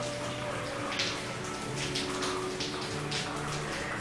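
Hot shower water runs steadily in a home bathroom during an evening routine, a constant close splashing hiss with soft droplet patter and no talk.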